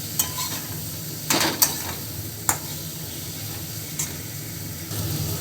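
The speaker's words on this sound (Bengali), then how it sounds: "এবার মশলাটাকে ভালো করে কষিয়ে নেব।" A spice masala paste is fried and stirred in a pan for a fish curry. A steady low sizzle runs throughout, broken by a few sharp scraping clinks of the spatula against the metal.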